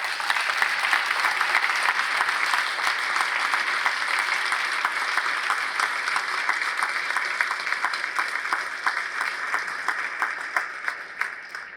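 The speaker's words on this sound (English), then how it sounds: "I think we should have a big round of applause for all our speakers." A large audience gives a loud, sustained round of applause for the speakers at a celebration of Knowlton Hall, dense clapping that holds steady and thins slightly near the end.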